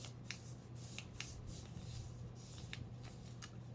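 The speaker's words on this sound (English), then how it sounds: "so we folded it once, folded it twice" Paper for a paper airplane is creased and rubbed in quick, soft rustling strokes, close up and quiet over a faint steady background hum, with no talking.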